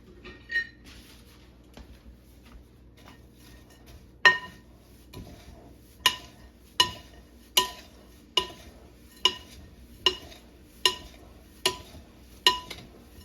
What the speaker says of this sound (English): And then we are going to stir all of this together.